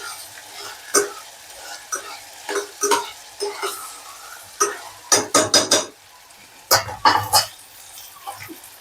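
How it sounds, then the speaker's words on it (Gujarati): Stirring coriander into a vegetable dish of dana muthiya shaak in a pan, with irregular spoon scrapes and clacks against the metal, some in quick bursts, over a faint sizzle, close by. "પછી કોથમીરને પણ હલાવી કાઢીએ."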